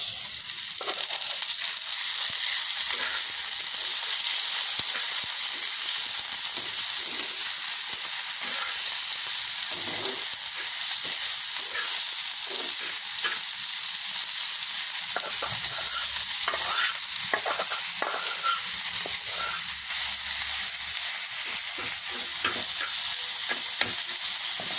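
Greens are stirred and fried in mustard oil in a pan. A steady, close sizzle runs throughout, with frequent scraping and clinking from stirring and no talk.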